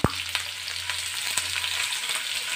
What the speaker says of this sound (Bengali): এবারে আমি একটু পেঁয়াজগুলো ভেজে নেব।